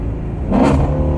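Loud car engine surges as it revs, a deep roar swelling sharply about halfway through and holding strong, close by with no talking.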